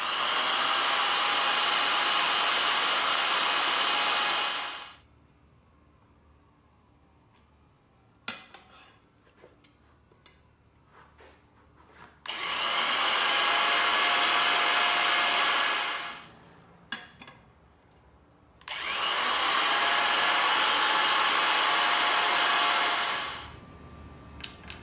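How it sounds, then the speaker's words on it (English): A power drill drills 1/8-inch pilot holes in three long, steady bursts of several seconds each, with quiet pauses and small clicks and knocks in between. "I'm going to drill pilot holes at 1/8 inch in all the locations"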